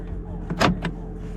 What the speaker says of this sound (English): You can lock all the doors, you can unlock all the doors.